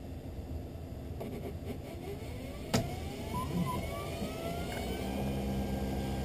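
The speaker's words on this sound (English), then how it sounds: "And down onto the cutting wheel goes your unbreakable prescription lens." An optical lens edger grinds an unbreakable prescription lens on its cutting wheel, a steady loud motorized whir with rising and falling tonal whines and one sharp click partway through, with no voices.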